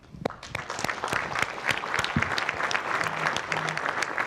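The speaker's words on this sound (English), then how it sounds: "Big round of applause." An audience at a symposium gives a big round of applause, sharp individual claps building quickly into a full, sustained ovation with a few scattered louder claps up close.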